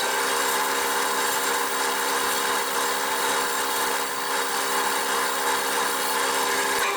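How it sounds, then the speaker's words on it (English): A cutter on a wood lathe scrapes a small bud vase, a continuous, close, even whirring rasp of the spinning wood with a steady motor hum underneath and no pauses. "You can also refine the shape using the side of your cutter like that, and just use it as a scraper"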